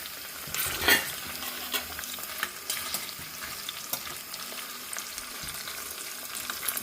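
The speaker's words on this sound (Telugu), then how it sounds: "ఇవి వేగుతున్నాయి కదా ఇప్పుడు ఎండుమిర్చి వేస్తున్నాం" Spices sizzle in hot oil as dried red chillies are added for a gooseberry pickle tempering, a close, steady frying hiss with occasional stirring scrapes and small pops, no voices.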